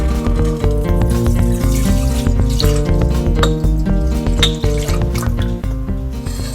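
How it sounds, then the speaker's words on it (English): Milk pours into a pot of boiling water on a stove for rasgulla, a loud continuous liquid stream with bubbling and drips, backed by a steady low hum. "Now the water has started to boil, so add the milk."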